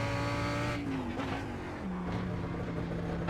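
A race car in iRacing during an IMSA Hagerty series race at Watkins Glen, its steady engine note shifting in pitch as a faster car closes in, loud and continuous near the pit entry.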